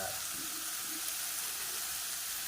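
Salted dried sardines sizzle in a hot pan, making a soft, steady frying hiss with faint crackles throughout, quiet and close with no talk.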